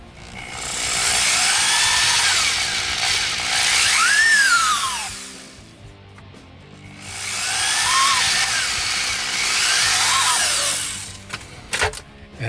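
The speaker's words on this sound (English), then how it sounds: "you should have all the holes drilled on this panel" A power drill bores holes through a soft plastic dash panel in two separate bursts of several seconds each, its whine rising and falling as the bit cuts through, close and loud with short pauses between.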